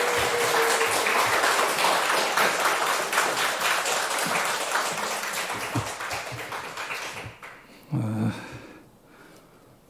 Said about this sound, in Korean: 우리 목사님 나오실 때 뜨겁게 박수하겠습니다